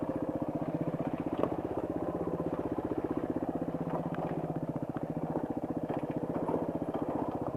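An old Suzuki DR200 motorcycle engine idling close by, a steady, fast single-cylinder putter with an even pulse throughout and no voices.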